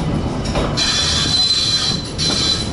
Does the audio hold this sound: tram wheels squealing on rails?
yes